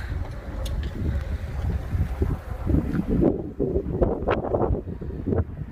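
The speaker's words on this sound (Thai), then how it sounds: "ลม" Strong wind roars steadily during heavy snowfall, with a broad rushing noise and gusty buffeting against the microphone. Faint rattling and flapping sounds come through under the wind, and no one speaks.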